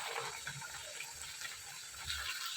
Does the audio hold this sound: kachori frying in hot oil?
yes